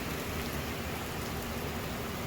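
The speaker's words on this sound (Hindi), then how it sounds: "इधर आके देखो कितनी तेज़ बारिश हो रही है।" Heavy rain pours down steadily with water streaming from roof drains, a dense, constant wash of noise close by with no talking.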